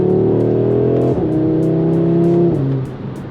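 An Audi RS3 with a stage 1+ tune pulls hard at speed, its engine droning loud and steady with rising pitch, dipping briefly at two gear shifts, heard from inside the car.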